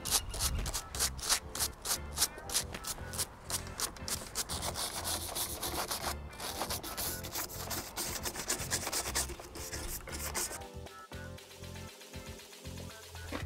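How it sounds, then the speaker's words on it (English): A brush scrubs a bicycle cassette, derailleur and pulley cage in rapid repeated strokes, close and continuous, easing into softer, sparser rubbing near the end with no talk. "Now that we've scrubbed everything off"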